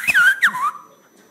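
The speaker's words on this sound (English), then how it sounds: "She's only learning to whistle." Someone learning to whistle lets out two short, wavering whistled notes that rise and slide, close and fairly loud, then fade into quiet.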